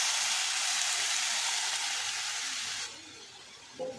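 Buttermilk meets hot tempering in a pan for kadhi, giving a loud, bright sizzle that holds steady, then abruptly drops to a quieter simmer, followed by a small knock.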